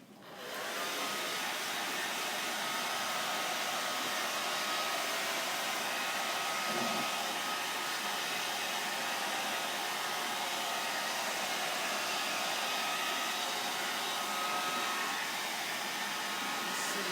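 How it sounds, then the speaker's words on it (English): A hair dryer on its cool setting whirs continuously at a steady, airy pitch, running close by without pause for the whole stretch. "I'm going to dry this with my blow dryer. I'm going to do it on a cool setting."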